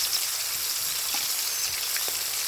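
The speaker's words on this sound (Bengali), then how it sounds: "আমরা কিন্তু ডুবো তেলে ভেজে নিচ্ছি মাছগুলো।" Hilsa fish pieces, slit and marinated in turmeric and salt, deep fry in hot oil with a steady crackling sizzle and scattered pops, close and even throughout, with no talking.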